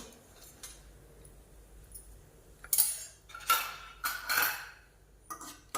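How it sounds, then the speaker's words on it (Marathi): Metal tongs clink and scrape against a metal pan while lifting freshly fried sev made from flour and salt, several sharp bright clatters coming in a quick cluster after a quiet start. "मी अगदी चिमट्यानं उचलते"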